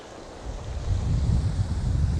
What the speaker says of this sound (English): It's a bit wild, really windy.